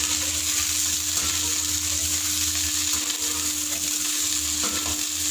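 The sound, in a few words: lasoda (gunda berries) frying in hot mustard oil in a kadhai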